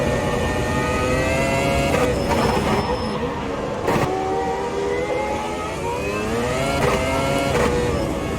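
V10 race car engine at Monaco in Automobilista: a loud, close high-pitched engine howling and rising and falling through gear changes and corners, sustained throughout.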